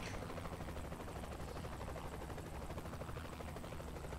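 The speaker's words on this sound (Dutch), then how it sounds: "De helikopter gaat zijwaarts." A helicopter in the video game Saints Row: The Third whirs with a continuous, fairly faint rotor and engine drone that holds steady throughout, with no speech.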